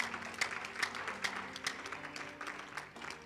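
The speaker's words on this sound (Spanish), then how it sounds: "Un aplauso a Dios." Congregation applauding at a church service, a steady burst of clapping with repeated sharp hand claps, fairly faint and diffuse in a large room.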